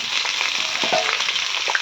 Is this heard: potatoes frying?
yes